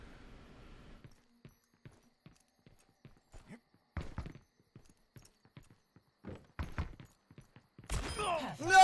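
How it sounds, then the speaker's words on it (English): Footsteps from a first-person video game during a tense 1v1 match: sparse, soft, irregular steps spaced apart, with a few louder thuds and a sharper burst of game noise at the end. "I'm listening to my own footsteps and getting panicked."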